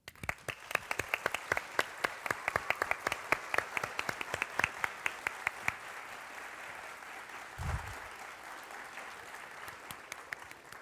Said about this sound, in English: help me provide a round of applause acknowledging all of these individuals' hard work and dedication to Hopkins Raspberry Festival